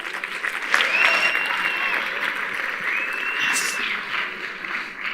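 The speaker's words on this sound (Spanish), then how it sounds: "Recibimos a Alejandro con un fuerte aplauso" A strong round of applause rises from a conference audience welcoming a speaker to the stage, a sustained crowd of clapping with a few faint whistles and voices mixed in.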